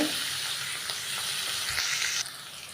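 Onions and curry leaves sauté in a hot pan, with a steady broadband sizzle running throughout and a few soft stirring scrapes. The sound is close and even, with no talking over it.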